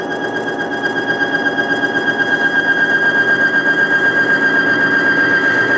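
Bearing test machine running with oil as pressure is pressed down, a loud continuous high squeal with a pulsing, rhythmic throb that grows steadier over time.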